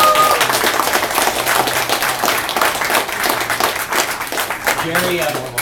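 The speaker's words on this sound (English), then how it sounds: "Give them a round of applause for hosting us." Applause from an audience at a Democratic political event in Annandale, Virginia, a steady dense wash of clapping that fills the whole clip, with crowd voices underneath.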